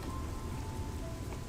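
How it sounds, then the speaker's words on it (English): Steady rain falls in World of Warcraft Classic during a thunderstorm in Stranglethorn Vale. It is an even, continuous hiss with no distinct drops or thunder, and no voices. "I'm so glad it's still raining in STV."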